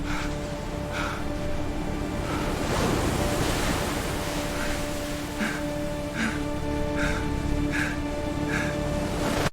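Ocean waves wash steadily onto an island shore, a continuous loud surf roar with wind and periodic faint bird calls, no voices.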